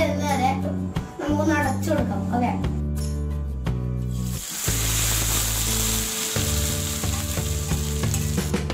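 Fish curry sizzles and bubbles in a clay pot, a steady frying hiss beneath prominent talking that runs across the whole stretch.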